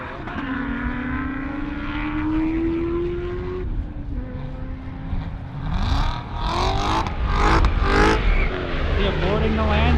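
A Nissan GT-R and a Corvette race along an airport runway, with rising engine drones and gear shifts, then a loud rushing pass that builds and fades. A voice talks over much of it, and a plane flies overhead.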